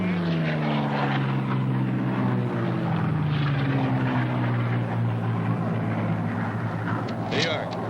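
Home-built midget racing plane of about 800 pounds arriving at the Reno air races, its propeller engine droning and sliding downward in pitch as it passes, with narration over it.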